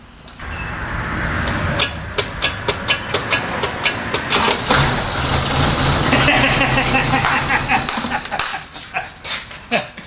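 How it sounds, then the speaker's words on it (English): A Toyota Corona wagon's engine idles just after starting, a rough, rhythmic chugging with sharp pulses that settles into a steady run. People talk over it. "Threw a little gas down the carb, cranked her over, she fired right up."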